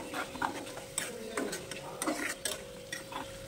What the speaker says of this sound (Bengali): মশলাটা পুড়ে যেন না যায় সেজন্য একটু পানি দিয়ে দেবো। এবার মশলাটাকে একটু কষিয়ে নেব।